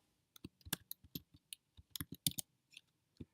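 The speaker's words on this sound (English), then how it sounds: "I'm going to type in H." Quiet, close keystrokes on a computer keyboard come in irregular short bursts of sharp clicks with silent gaps between them, and no one speaks.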